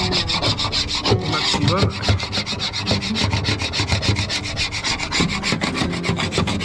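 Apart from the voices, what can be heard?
scraping glue off a wooden boat deck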